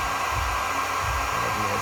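A heat gun blows steadily up close while warming plastic pieces for a car's surge tank, a continuous loud hot-air roar with no talking over it.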